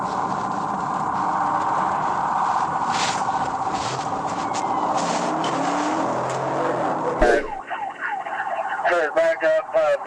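A car speeding away from a traffic stop in a high-speed police chase, its engine roaring steadily and loud with tire noise, then cutting to sharper bursts and siren-like tones near the end.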